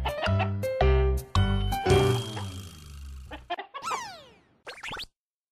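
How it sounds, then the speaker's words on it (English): Chickens clucking and squawking in short bursts with bright harmonic calls, close and clear, mixed with a few tinkling chime-like tones and no voices. "There are chickens."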